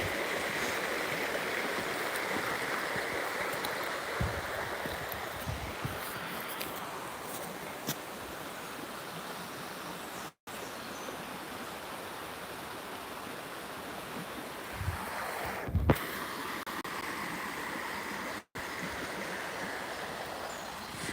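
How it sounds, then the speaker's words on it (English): The River Tweed flows steadily in a continuous broad rushing wash, heard from a riverside path with occasional faint knocks and footstep-like thumps over the constant water noise. "Now you can definitely hear the river now."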